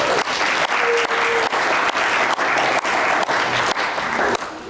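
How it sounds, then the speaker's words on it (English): An audience at a high school National Honor Society induction ceremony applauds the jazz band, steady dense clapping filling the room for nearly five seconds before tapering slightly at the end. "let's give them one more round of applause"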